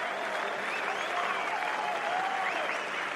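A cricket crowd at Seddon Park stands and applauds a 150 by Martin Guptill against South Africa, a dense, sustained roar of clapping from a large stadium, distant and steady, with a commentator's voice faint underneath.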